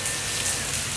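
Steady rain falls outdoors, a dense, even hiss of drops that holds at a constant level throughout, with no voices over it.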